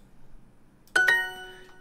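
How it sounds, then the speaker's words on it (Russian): A single sharp electronic click-chime from the Duolingo language app rings out once at moderate loudness and fades over a fraction of a second against near silence. "Слишком громкий щелчок."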